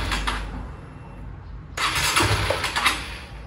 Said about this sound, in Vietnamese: mình có thử bấm một phát nổ máy cho anh em nghe thử ha